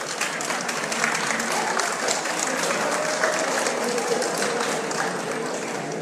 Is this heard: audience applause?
yes